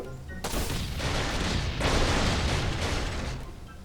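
A planted explosive detonates in Last Island of Survival, a sudden loud blast that erupts after a brief lead-in and rolls on as a dense, roaring rumble of debris for several seconds.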